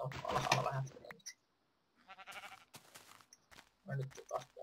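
Sheep in the video game Minecraft bleat in short, nearby bursts, a couple of separate calls with a brief quiet gap, while someone talks over parts of it.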